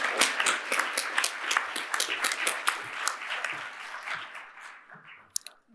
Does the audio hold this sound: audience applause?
yes